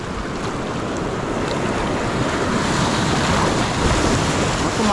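Ocean surf washes in steadily and close, a continuous broadband roar of breaking waves with wind noise buffeting the microphone throughout.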